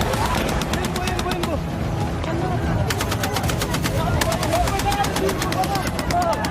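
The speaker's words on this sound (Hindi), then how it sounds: "गोलियों की खौफनाक आवाज, भगदड़ और चारों तरफ धुआं धुआं" Rapid gunfire during a street protest in Quetta: bursts of sharp cracks in quick succession, fairly loud, over a busy crowd murmur with voices and general commotion throughout.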